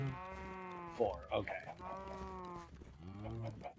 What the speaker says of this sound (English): These are sheep.